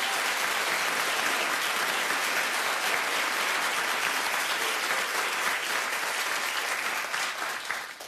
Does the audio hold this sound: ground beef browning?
no